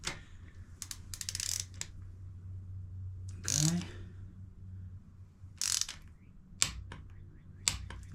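A torque wrench ratchets in quick bursts of sharp clicks while tightening a spark plug on a 2022 Harley-Davidson Street Bob 114, close and crisp against a quiet background, with a few louder single clicks and a metallic scrape.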